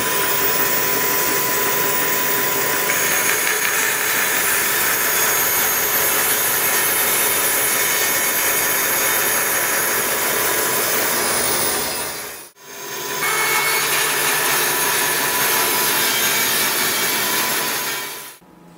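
A bandsaw cuts wood panels in a woodworking shop, a loud continuous whine and rasp of blade through wood, close by, with a brief drop in sound between two long cuts and no talking.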